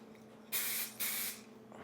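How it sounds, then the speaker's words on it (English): Two distinct bursts of aerosol spray paint, each lasting roughly three-quarters of a second and separated by a short pause, hiss close and loud during hydro dipping. "so that's why I sprayed it from one side to the other"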